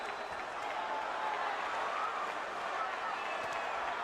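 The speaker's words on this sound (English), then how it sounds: "The crowd gets so excited when Oscar does anything" Crowd roaring in a boxing arena during the Felix Tito Trinidad versus Oscar De La Hoya fight, a continuous dense wall of cheering and voices, steady in loudness, with commentary talk over it.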